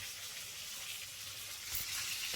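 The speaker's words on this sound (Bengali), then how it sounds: "তো মাছটা ভেজে নিই" Fish frying in a pan in a home kitchen, giving a steady, soft hiss of sizzling oil that swells slightly louder toward the end, with no talking.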